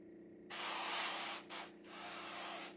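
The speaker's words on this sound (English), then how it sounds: "spray this side with some extra virgin olive oil" A close, hissing spray of extra virgin olive oil bursts out in two long sprays separated by a brief pause, over a low steady hum, as steak kebabs are prepared for an air fryer.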